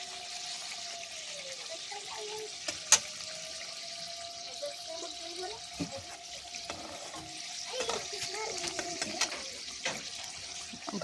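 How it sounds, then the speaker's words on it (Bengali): Evening snacks fry in oil until they turn reddish, a soft, steady bubbling sizzle with small pops and occasional clinks, heard close and fairly quiet under a faint tonal hum. "এরকম লাল লাল করে ভেজে নেব।"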